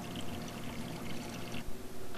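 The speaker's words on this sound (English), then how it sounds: "draining some of that water into the buckets that I brought the new fish in" Aquarium water drains into buckets in a steady, close splashing pour that runs continuously, gurgling and sloshing as the containers fill.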